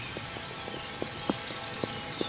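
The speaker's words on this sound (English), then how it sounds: "The drip, drip, drip sound of the rain falling on my raincoat, on my hood as I go, is a welcome sound." Rain dripping onto a raincoat hood during a winter morning walk in a Swiss forest: soft, irregular close taps and drips over a steady hiss of rainfall, with a few sharper drops standing out.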